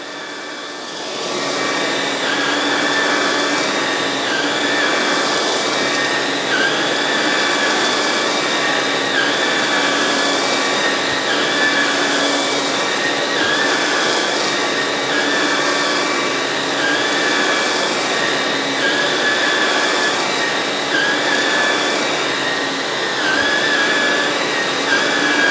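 Hoover ONEPWR Evolve Pet and Emerge Pet cordless vacuum cleaners run on carpet, giving a loud, steady motor whine with airy rushing hiss and slight pitch wobble as the head moves, continuous and close with no talk.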